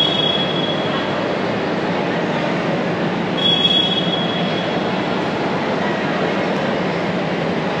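A train at Mumbai Central railway station rumbles loud and near in a steady continuous roar, with brief high wheel squeals cutting in near the start and again midway.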